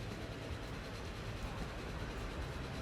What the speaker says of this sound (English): we also threw a steam train on our passenger route here